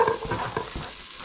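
A small onion frying in a pan, with a few scraping stirs of a utensil over a low sizzle, close and fairly quiet.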